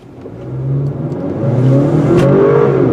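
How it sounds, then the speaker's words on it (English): A 2019 Acura RDX AWD in Sport Plus mode accelerates hard, the engine note swelling and climbing steadily in pitch and loudness over a few seconds, heard from inside the cabin with no talking. "Takes about a half second for the engine to respond, and once it does, the baby really moves."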